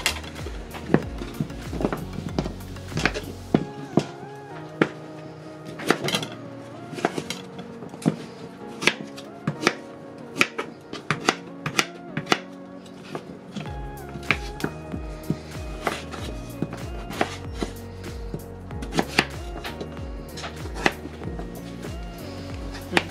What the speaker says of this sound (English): Now it's time for chopping.